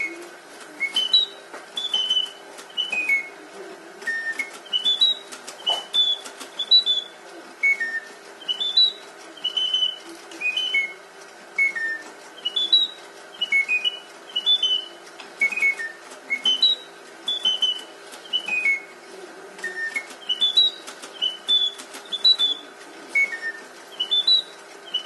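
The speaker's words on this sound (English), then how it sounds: "This is a singing bird. We've all seen singing birds before. This one happens to be coin operated." A coin-operated mechanical singing bird trills and whistles in repeated short chirping phrases over a steady faint mechanical hum, the bright warbling bursts recurring rhythmically for about twenty-five seconds with no talking.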